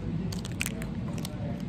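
Someone biting into and chewing Hi-Chew candy up close, a series of soft sticky squishes and small crunchy clicks over a steady low background hum, with no talking.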